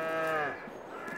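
A single drawn-out moo from cattle in the Farming Simulator 22 video game, a clear, fairly close bovine call that fades away with no talk.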